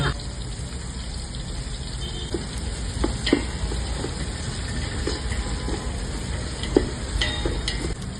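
Onions and green chillies frying in Dalda for brinji rice give a steady, dense sizzle with occasional stirring scrapes and light clinks against the pan throughout.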